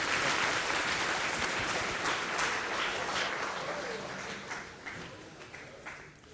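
Students in an aerospace engineering lecture hall give a short burst of applause, loud at first and gradually thinning and fading over several seconds.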